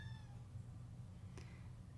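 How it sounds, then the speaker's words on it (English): A cat meows quietly near the start, one short drawn-out call, followed by a faint brief sound, over a steady low background hum. "What's up with this kitty today?"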